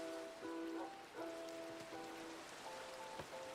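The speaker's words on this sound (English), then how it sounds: "Is it raining? It's raining." Steady rain falls in the blocky Minecraft game world, a continuous soft patter and hiss that runs throughout under gentle game music notes.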